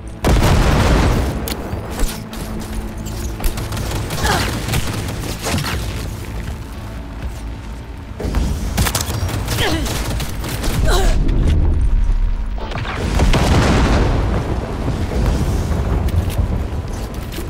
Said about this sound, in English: That's a non-lethal EMP grenade.